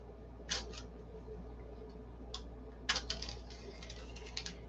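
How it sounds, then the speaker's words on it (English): Blade or scissors cutting notches into a paper rudder stencil for a P-47 model, a few short crisp snips and scratchy bursts, close and faint over low background hum. "I'll go ahead and cut these notches."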